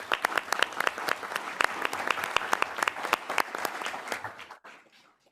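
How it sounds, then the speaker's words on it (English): An elementary school board meeting audience claps in a steady burst that carries on for several seconds, then tapers off and stops. "give them a round of applause."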